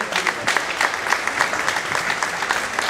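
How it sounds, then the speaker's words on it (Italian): Audience applause at a vocational music and song festival, a steady dense clapping from a crowd filling the hall, continuous and fairly loud throughout with no voices over it. "fateci un altro applauso, per favore"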